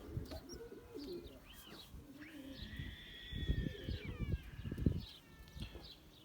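Pigeons coo in low murmuring bursts among this year's plump squabs, with thin chirping calls drifting above, close by and steady throughout.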